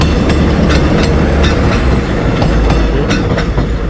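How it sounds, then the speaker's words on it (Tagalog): A train passes close by on a railway heading toward Santa Mesa, near the NLEX-SLEX connector road works, with a loud, steady rumble and rhythmic clickety-clack of wheels over rail joints. "Release ng train."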